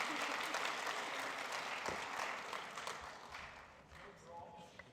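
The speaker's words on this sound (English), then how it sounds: "Big round of applause." Steady applause from a conference audience at a tech talk fills the room, broad and sustained, gradually tapering off toward the end with some voices mixed in.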